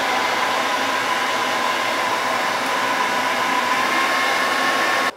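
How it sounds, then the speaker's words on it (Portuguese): A repaired hair dryer blowing on a retro video game console being cleaned: a loud, steady, continuous whirring rush of air close by that cuts off abruptly at the end, with no talking. "o secador de cabelo que eu consertei está sendo muito útil"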